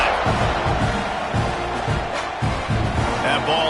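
A packed stadium crowd at an Oklahoma State versus Texas A&M college football game roars steadily during a kickoff, a broad continuous din with rhythmic swells beneath a commentator's voice.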